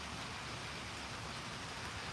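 Rain falls as a steady, dense hiss of broadband noise throughout, constant and fairly close with no voices.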